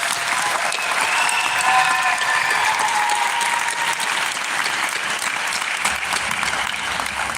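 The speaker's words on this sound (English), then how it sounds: "let's give the kids, the students, a round of applause" Audience applause for students at an award night, a dense, sustained roar of many people clapping, loud and continuous throughout without a break.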